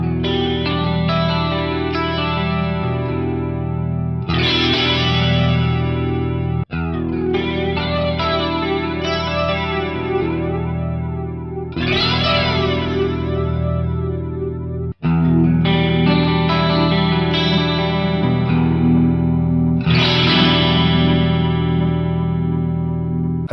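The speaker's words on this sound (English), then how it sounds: "The flanger's very, very short. So you get the comb filtering effect, and you can add feedback" Flanger effect with feedback on a sustained instrument, creating sweeping comb-filtered whooshes that rise and fall in repeating cycles, loud and alone.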